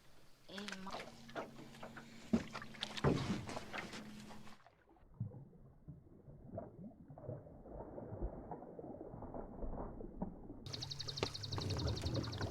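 A cheap electric trolling motor hums as it pushes a small boat through thick lily pads, with steady swishing and rustling of the plants against the hull outdoors, moderately loud, and brief bursts of motor whine at the start and end.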